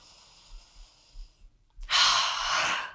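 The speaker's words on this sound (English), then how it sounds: "Take a full breath in and out." A deep breath drawn in and let out during a shoulder and upper-back stretching exercise, with a faint inhale first, a short pause, then a loud, rushing exhale close to the microphone. No talking.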